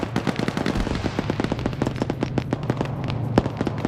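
Rapid gunfire in a chaotic video game firefight, with close, loud bursts of sharp shots in fast irregular rhythm over a low rumble of explosions, continuous throughout.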